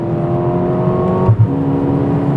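Engine drone of a Mercedes-AMG CLA 35 mild hybrid as heard from inside the cabin, a steady humming tone with a brief dip and thump partway through, continuous and moderately loud with no talking.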